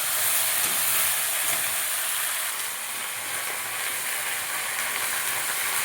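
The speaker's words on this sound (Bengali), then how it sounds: "জিরে ফোড়ন দিলাম এবার দেখো আলু ফুলকপিগুলো আমি সবাই দিয়ে দেবো নাড়াচাড়া করে দেবো" Potatoes and cauliflower tipped into hot oil tempered with cumin and a bay leaf, giving a loud, steady hiss and sizzle that holds evenly for several seconds with no talk.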